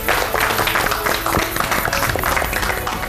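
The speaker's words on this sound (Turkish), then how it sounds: "Alkışlarla!" Studio audience applauds on a Turkish cooking competition TV show's New Year special, a dense burst of clapping lasting about three seconds at steady loudness.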